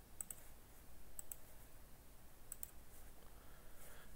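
Computer mouse clicks while drawing in Inventor CAD software: a few sharp, quiet double clicks spaced about a second apart over faint room hiss, close by and with no speech.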